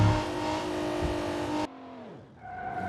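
A hill climb car in BeamNG.drive revs hard with a loud, sustained engine roar that cuts abruptly, then drops into a falling pitch and a fresh rev, with no talking.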